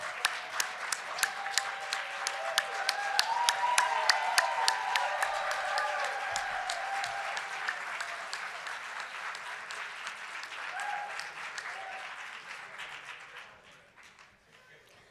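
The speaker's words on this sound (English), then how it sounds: "you deserve humongous applause, and we want to give them to you now" At a graduation ceremony in a hotel ballroom, a large crowd gives friends and family a long, steady round of dense applause that holds for over ten seconds, then thins and fades out.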